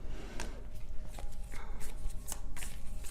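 Tarot cards are shuffled by hand in close, rapid riffling bursts with soft slaps and rustles, repeated irregularly throughout the short stretch.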